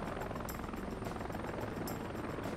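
Scout helicopter in the Heliborne video game, set in Afghanistan's Khost Province, a steady whirring rotor and engine drone holding constant throughout, with faint periodic blade thumps and no voices.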